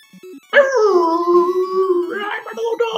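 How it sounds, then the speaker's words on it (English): Dogs bark and howl in a sustained, fairly loud call, with short rhythmic yips before it and more barking after, heard behind gameplay from Final Fantasy 1. "if all we're gonna hear is barking dogs this entire series, that's gonna be ridiculous"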